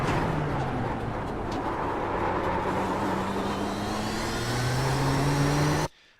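Nissan GTP ZX-T race car in iRacing at Sebring, its engine holding a loud, steady full-throttle drone with rising harmonics off a corner before the sound cuts off abruptly near the end.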